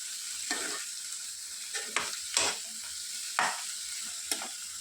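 Spoon stirring bottle gourd halwa with cream in a pan, soft repeated scraping strokes at irregular intervals over a steady gentle sizzle, close and quiet.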